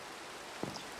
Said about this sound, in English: It constantly rains over here and I don't know why, and it's so annoying.